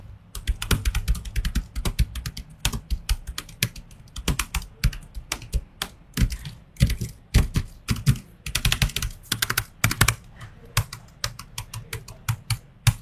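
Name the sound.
typing on AMD laptop office keyboard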